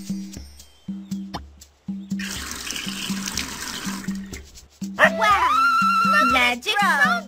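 Water pours in the kids' video game Dora's Magical Garden, a bright splashing gush over a looping bouncy music bed, followed by twinkling chime-like game sounds, with a voice speaking over the track.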